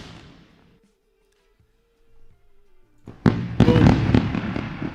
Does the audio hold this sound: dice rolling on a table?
no